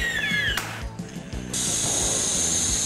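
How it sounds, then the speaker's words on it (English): A power rivet gun installs steel rivets into an aluminium formwork panel, giving short mechanical bursts and knocks followed by a steady high whine, close and fairly loud. "Standard electric or pneumatic rivet guns can be used for riveting."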